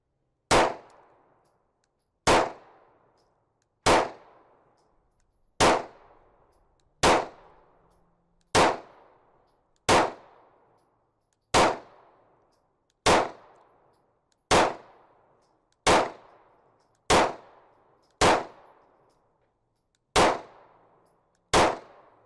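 Glock 45 pistol shots ring off a steel target at an outdoor range, thirteen evenly spaced sharp cracks with metallic clangs, each decaying quickly into quiet.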